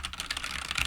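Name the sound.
computer keyboard typing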